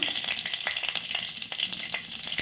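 Mustard seeds and curry leaves splutter in hot oil in a pan for a goat curry, making a dense, close, steady sizzle with small crackling pops throughout and no talk.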